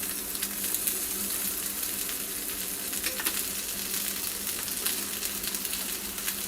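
Bacon sizzles steadily on a hot sandwich press while an Aussie breakfast is cooked, a close, continuous frying hiss with small crackles and no talk.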